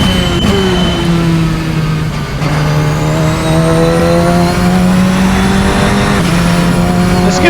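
In a racing sim video game, a Radical SR10 XXR race car engine screams loud and close at high revs, dipping briefly on gear changes and climbing again, with no voices.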